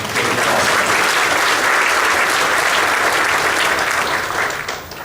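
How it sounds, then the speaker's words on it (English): Loud, sustained applause from a conference audience at a cybersecurity keynote, filling the room steadily for several seconds before easing slightly at the end. "big round of applause for these guys"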